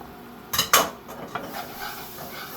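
Minced garlic, four cloves, tipped into a pan and stirred with a utensil for a shepherd's pie. Two sharp metallic clatters come close together, then softer scraping and a faint sizzle, close by and with no voices.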